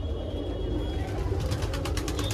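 A 400-rupee fancy pigeon of the Teddy Rampuri breed coos close by, a soft low continuous murmur with faint rattling in the background and no talk.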